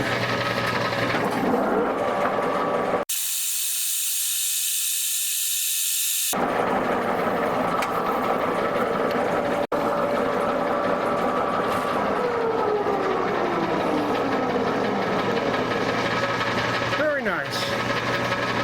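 A milling machine cuts a Delrin quill wheel, giving a steady mechanical whir and grind that runs through most of the stretch, with a short break partway through.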